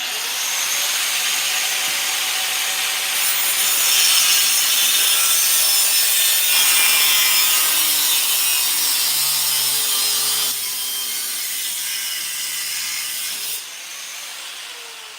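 Metal on a mining cart being cut through with a power tool, sparks flying, a loud sustained abrasive grinding whine that shifts pitch as the blade bites, close up and alone for about fifteen seconds.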